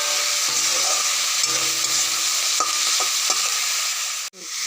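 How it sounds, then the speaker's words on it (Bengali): Whole garam masala and onions hissing in hot oil in a home kitchen, a loud steady sizzle with scraping stirs and a few clinks near the end. "আর এই যে গোটা গরম মশলা আমি ফোড়ন দিয়ে দিলাম, পেঁয়াজগুলো দিয়ে দেবো।"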